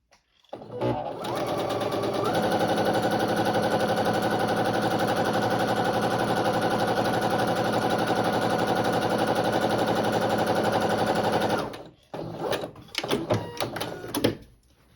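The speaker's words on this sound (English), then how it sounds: "Then we're going to sew a 1/4 inch seam along this folded edge." A sewing machine runs a quarter-inch seam along folded quilt fabric, a steady, close, loud mechanical whir for about ten seconds after a brief start, then stops, followed by a few short handling clicks.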